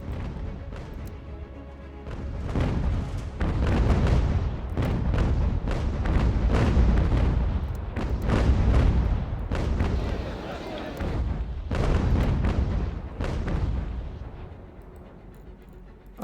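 Naval gunfire and exploding shells in the naval strategy game UGAR, British campaign sea battle: a dense, continuous barrage of booms and bursts rolling through, loud throughout with faint talk underneath.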